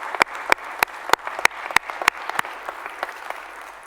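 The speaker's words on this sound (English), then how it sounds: "Give them a round of applause." Congregation applauding during a Unity Temple service: steady, mid-distance clapping with sharper individual claps standing out, tapering slightly toward the end, with no speech over it.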